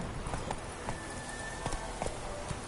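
Horse hooves clip-clopping in The Witcher 3 video game, a brisk irregular series of close, crisp hoofbeats over a continuous ambient bed, with no talking.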